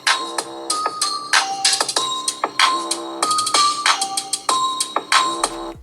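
Ringtone played through the stereo speakers of an Asus Zenfone 8 Flip phone, a bright, loud melodic chime pattern of rapid repeating notes for several seconds, close and clear with no talking.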